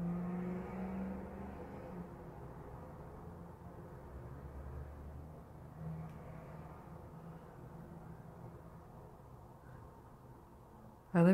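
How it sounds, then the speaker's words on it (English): A low, steady rumble of Boston city traffic passing outside a window, one car swelling and fading, with a sudden brief loud noise at the very end. "You hear the traffic outside my window?"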